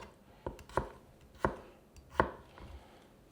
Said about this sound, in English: Slice up that garlic